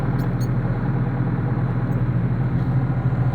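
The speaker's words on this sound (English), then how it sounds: "But pretty decent working tractor." A working tractor's engine runs at a steady idle, a low, constant drone with a faint rattle, close and uninterrupted for a few seconds.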